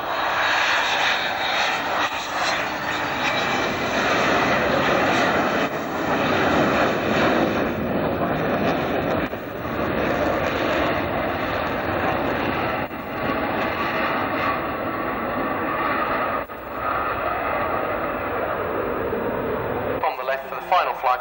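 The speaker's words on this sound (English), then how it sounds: "For the final flight past the Nimrod from Tier 1 Squadron RAF Kinross." A Nimrod search and rescue aircraft from an RAF Kinross squadron makes a final flight past, its engines a loud, steady, close roar that fills about twenty seconds before cutting off abruptly.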